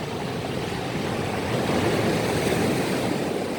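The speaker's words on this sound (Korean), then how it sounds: "파도" Ocean surf roars loudly and continuously up close, a dense wash of breaking water with no voices.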